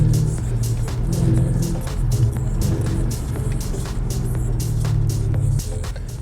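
A 2003 Mercedes E500 accelerating, with a loud engine drone rising and holding under a hiss of road and wind noise, then settling near the end.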